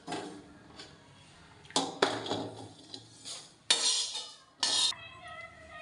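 A metal utensil scrapes and clinks against a pan as browned roasted seeds are lifted out, in a handful of short, sharp bursts separated by quiet gaps, with no talking.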